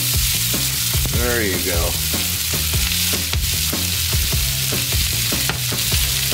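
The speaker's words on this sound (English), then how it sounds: "Put this in a pan that's been heated on the stove." A breakfast hash sizzles loudly and steadily in a stovetop pan over medium-high heat, with scraping stirs and a brief spoken remark over the crackle.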